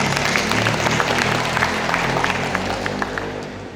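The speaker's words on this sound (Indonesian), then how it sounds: "Tepuk tangan. Coba tepuk tangan." A room full of students at an OSIS school council training session claps together, dense and steady applause filling the hall with scattered louder claps on top.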